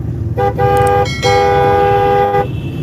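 A car horn honks loudly in two blasts, a short one followed by a longer sustained one, over steady road and engine noise.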